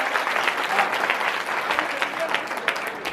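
An audience at a village kavi sammelan poetry gathering claps steadily, a dense patter of many hands, moderately distant and fairly soft, continuing evenly throughout.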